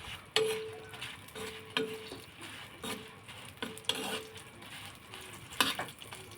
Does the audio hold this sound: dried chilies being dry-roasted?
yes